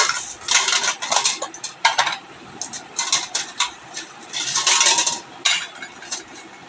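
A metal pot clanks and clinks against metal as it is handled during a home worship ritual, irregular bright knocks and rattles up close, with short quiet gaps between them.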